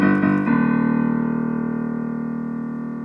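Opening motif of Beethoven's 5th Symphony, three quick repeated notes then a long held lower note, played alone on a single instrument and ringing out as it slowly fades.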